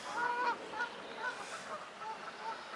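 A white goose honks outdoors among ducks and other waterfowl, giving several short nasal calls at a moderate distance over a steady background hiss.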